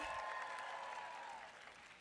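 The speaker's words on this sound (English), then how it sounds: "Can we please give them a round of applause?" Crowd at a senatorial town hall in Austin applauds volunteers, a faint, distant wash of clapping that holds briefly and tapers slightly.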